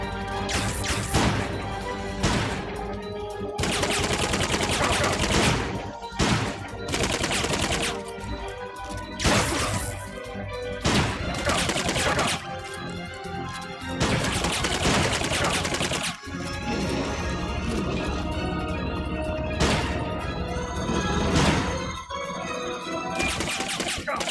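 Gunfire in Metal Gear Solid: Peace Walker, dense rapid bursts and crashing impacts in repeated loud volleys with brief gaps, dominating the whole stretch.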